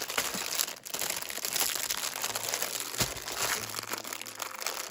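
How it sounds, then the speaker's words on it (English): Plastic packaging crinkles and rustles steadily while a craft haul is unpacked, close and fairly loud, with a few sharper crunches. "Excuse the crinkling."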